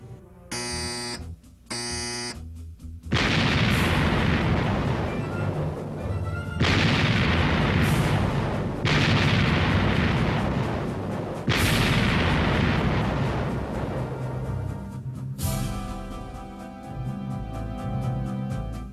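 USS Missouri battleship turret guns firing, several massive booming blasts in sequence, each a loud broadband roar that decays over a second or two, after two short buzzer signals, with faint commands before.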